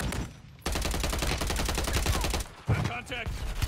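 Rapid automatic gunfire in Call of Duty multiplayer, a loud sustained burst of shots that cuts off and then resumes briefly, with faint voices underneath.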